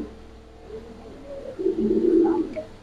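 Giribaz Pakistani high flyer pigeons coo nearby, a soft low throaty cooing that swells louder for a second or so over quiet room noise.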